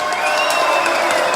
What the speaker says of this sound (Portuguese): Uma salva de palmas ao maior jogador da história do Esporte Clube Internacional, Fernando Lúcio da Costa,